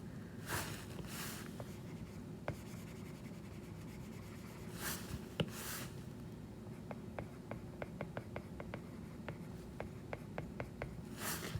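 Pen writing on paper for a maths working, soft scratching strokes with a run of quick light taps and ticks, quiet and close, with no talk.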